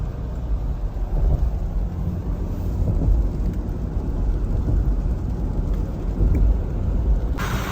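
Steady rain pours down outdoors in Punjab with low rumbling thunder woven through it, a dense, continuous hiss that stays loud throughout with occasional deeper swells.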